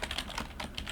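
A computer keyboard clatters as a shortcut is typed: a quick burst of close, crisp key clicks tapped in rapid succession, with no voice over them.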